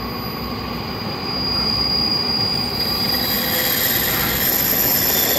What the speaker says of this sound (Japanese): 普通列車須崎行きとなります。